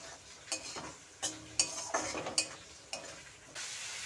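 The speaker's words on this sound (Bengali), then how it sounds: "এখন আলু ভাজা দিয়ে দেবো" Fried potato pieces tossed into well-cooked spicy masala for a ridge gourd curry, a spatula scraping and stirring against the pan in several sharp bursts over a soft steady sizzle, with occasional metallic clinks.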